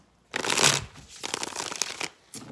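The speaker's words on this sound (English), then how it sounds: "One more shuffle, right?" A tarot deck being shuffled close up, a long riffling burst followed by a shorter one, with no voices.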